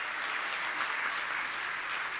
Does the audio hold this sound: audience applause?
yes